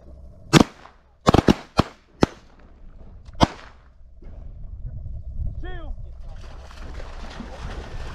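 Shotgun blasts during an opening-day teal duck hunt in Texas, with about six sharp, loud reports in irregular succession early on, followed by outdoor ambience, a brief whistle-like call and people talking.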